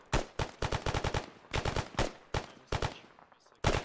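Rapid bursts of automatic gunfire from Arma 3, loud close shots in quick clusters with short gaps, a final burst at the end and no talk over it.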